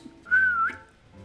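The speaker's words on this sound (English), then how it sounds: "that whistle, like, is like really loud" One loud, sustained whistle, a single clear tone that rises slightly and wavers for about half a second before cutting off, with no one talking.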